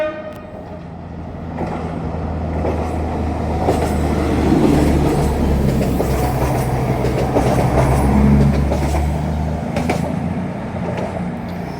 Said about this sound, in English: first up, cross-country service from Newcastle to Edinburgh, which I believe has been cut in half.